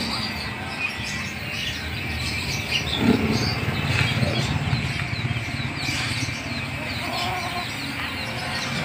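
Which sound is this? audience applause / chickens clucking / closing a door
chickens clucking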